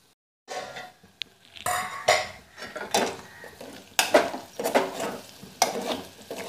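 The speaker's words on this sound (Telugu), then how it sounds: "మధ్యలో 2 సార్లు కలుపుతూ ఈ విధంగా మనం ఫ్రై చేసుకుంటే" Potato and carrot pieces fry in a pan while being stirred, with repeated bursts of spatula scraping and clinks over a soft sizzle.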